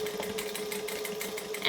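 Sewing machine stitching slowly over layers of piping, a quiet rapid rhythmic whir and clatter of the needle, steady and close, no voices.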